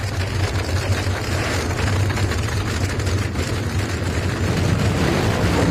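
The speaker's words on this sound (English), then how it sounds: "The roar of nitro-powered engines reaches out into the stands to grab and hold the attention" A loud, continuous nitro-powered funny car engine roar at night, with a deep rumbling low end, steady and unbroken throughout, heard alone without voices.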